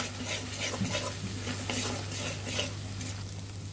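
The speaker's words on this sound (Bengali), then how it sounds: "এখন কিন্তু আমাদের মশলাটা একদম ভাজা ভাজা হয়ে গিয়েছে।" Ground spice paste sizzling and frying in a pan while being stirred with a utensil, with steady crackle and repeated scraping strokes close by. It is being cooked for a deshi puti fish kalia with gondhoraj lemon leaves.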